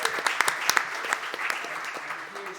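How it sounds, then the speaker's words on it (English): Conference audience applauds at a panel discussion on green and blue agendas, a moderate wash of clapping with a few sharper nearby claps standing out, fairly faint and fading slightly. "Let's give that man a round of applause."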